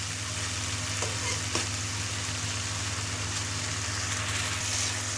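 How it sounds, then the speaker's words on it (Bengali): Garlic, ginger and spices for a duck curry stir-frying in hot oil, a loud, dense, continuous sizzle with occasional scraping of the stirring utensil, close up and without talk. "রসুন আদা এখন সুন্দর করে আমি হচ্ছে কষিয়ে নিব।"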